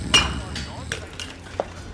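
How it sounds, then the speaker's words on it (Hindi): A steel bottle slams hard onto a shop counter with one sharp metallic bang, followed by a few fainter knocks and clinks. "सिमरन ने काउंटर पर पड़ी एक स्टील की बोतल उठाकर उस बोतल को जोर से काउंटर पर ठोक दिया।"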